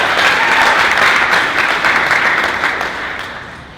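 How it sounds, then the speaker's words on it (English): An audience at a wheelchair pageant speech night gives a guest judge a dense round of applause, loud and steady at first, then gradually fading toward the end. "let's give Kathy a round of applause"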